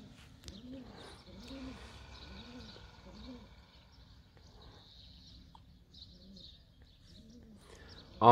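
Pigeons on an open plot of land give repeated low, rolling coos in a steady rhythm, fairly close but soft, while someone talks quietly over them and a sudden louder noise breaks in at the very end.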